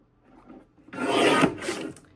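Paper for a handmade 6x8-inch album being trimmed with a paper cutter, heard as one close rasping slide of a little over a second after a quiet pause, trailing into a softer scrape.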